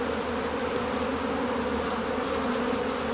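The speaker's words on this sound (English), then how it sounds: "So we've got bees more or less on all of those frames there." Honeybees swarm over the frames of an open beehive during a spring inspection, a dense, continuous buzzing hum that stays steady and close throughout, with no voices.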